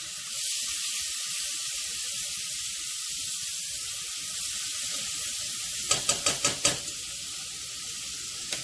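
Chopped onion being stirred into a pot with cooked bacon, a soft continuous sizzle with a quick run of five or six scraping stirs near the end.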